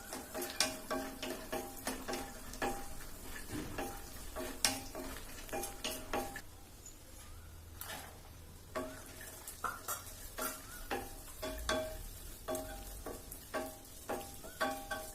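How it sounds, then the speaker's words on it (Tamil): Cashews and then raisins roasting in a pan, a quiet sizzle under frequent rhythmic taps and clicks of a spoon stirring against the pan. "ஐம்பது கிராம் முந்திரியை சேர்த்து வறுத்துக்கலாம் முந்திரி கொஞ்சம் வறுப்பட்டதும் ஐம்பது கிராம் திராட்சையை சேர்த்து வறுத்துக்கலாம்"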